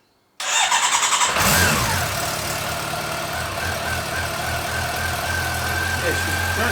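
A 2011 Honda CB400SF motorcycle engine, freshly rebuilt, cranks and catches after a moment of silence, revs briefly, then settles into a steady, smooth idle close to the listener.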